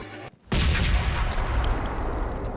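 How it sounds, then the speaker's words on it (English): Explosion in the video game Mass Effect 2: a sudden loud blast after a brief silence, followed by a sustained rumbling roar that fades slowly. "Gonna be another tiny explosion."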